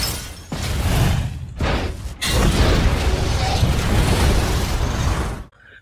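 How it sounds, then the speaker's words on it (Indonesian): In a film, a ship explodes with a dense, loud blast of booming rumble. It breaks briefly twice, then swells into a long continuous roar before cutting off abruptly. "Kapal itu pun meledak."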